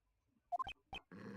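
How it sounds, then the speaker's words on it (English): A dog in a mystery investigation game whimpers and grunts, a few short, soft, high yelps followed by a brief low rumbling noise. "It's the dog."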